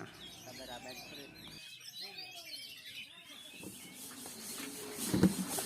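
A songbird sings varied, rapid chirps and whistles, with pauses and background noise, then a louder close burst near the end.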